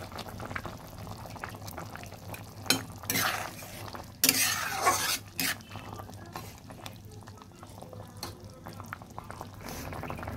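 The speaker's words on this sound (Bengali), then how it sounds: "ঝোলটা ফুটে উঠেছে। এখন আমি যে মাছের মাথাগুলো দিয়ে দিচ্ছি।" Fish heads drop into a boiling fish curry broth, giving a burst of splashing and sizzling bubbling that swells for a couple of seconds, then settles back to a steady low simmer, close and alone.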